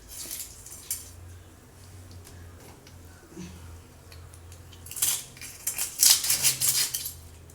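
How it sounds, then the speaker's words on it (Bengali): Heads cut off fish, likely hilsa, with a knife: faint scrapes and taps at first, then a cluster of sharp metallic clicks and clatter toward the end, close by. "মাথা কেটে নিই।"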